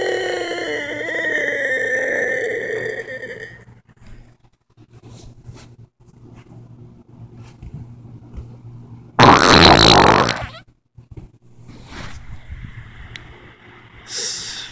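A loud, close fart rips out for about a second, harsh and raspy, after a stretch of quieter rustling and low hum. A second short burst follows near the end.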